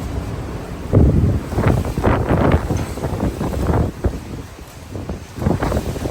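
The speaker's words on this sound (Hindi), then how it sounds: "बड़ी सख्त है, बहुत सख्त आंधी है।" Strong gusting windstorm roars and buffets the microphone continuously, with rushing surges and rattling debris throughout, no voices.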